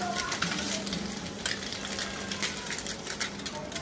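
Egg pieces fry in a pan with a bright, steady close sizzle, while sporadic utensil scrapes and taps come from turning them over.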